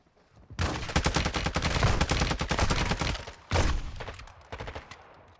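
Rapid automatic gunfire rattles in dense bursts, close and loud, while shooting at bots in the video game Call of Duty DMZ. A short pause comes before a final sharp volley.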